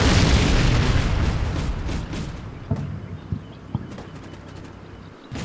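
Heavy artillery explosions in the wargame Combat Mission Black Sea: a loud, sustained boom that rumbles and slowly fades, followed by several sharper impacts and distant bursts, with no voices.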